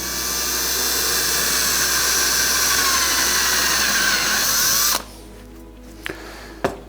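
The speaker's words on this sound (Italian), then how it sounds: "In questo caso usiamo semplicemente un trapano per fare i fori" A loud, steady high-pitched whine of an electric drill boring through metal, stopping abruptly, followed by a couple of sharp clanks.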